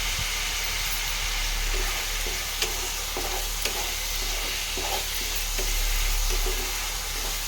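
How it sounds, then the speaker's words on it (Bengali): Grated coconut fries in a pan with oil, a dense continuous sizzle and hiss broken by light scraping strokes of stirring, close and steady with no voices. "নারকেলটা ভালো করে ভাজা হয়ে গেছে,"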